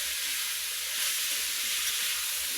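Food seasoned with salt and turmeric sizzles loudly and evenly in a pan, a constant close hiss with faint stirring beneath it, no speech.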